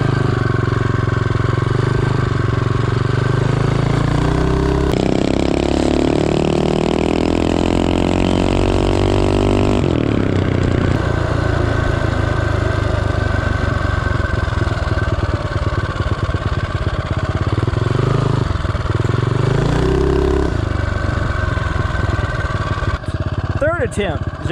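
A Tillotson 225 kart engine fitted with a 24mm NIBBI carburetor revs loudly and close up, its pitch sweeping up and down through repeated throttle bursts before settling back to a rough idle.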